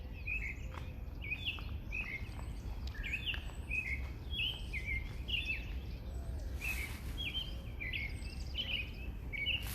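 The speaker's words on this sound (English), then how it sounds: "Listen to the birds chirping." Birds chirp on a quiet morning near ice, a string of short, bright repeated calls, fairly close and continuous, over a low steady background hum.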